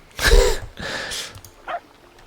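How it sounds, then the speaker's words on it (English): Dogs in the game Lords and Villeins give a few short barks and yips, two close bursts followed by a fainter one, without talk. "Okay, that's the doggies."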